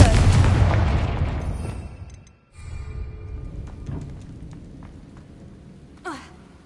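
A Confringo spell explosion in a Hogwarts video game bursts loud at the start and rolls away into a fading rumble, followed by a brief quiet and then scattered faint clicks and a small whoosh.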